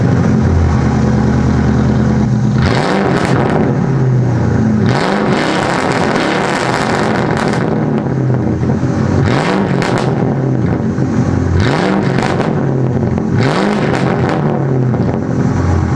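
A Ford Crown Victoria Police Interceptor with muffler delete and secondary cat delete idles loudly, then is revved hard several times, each rev rising and falling back to a rough, rumbling idle.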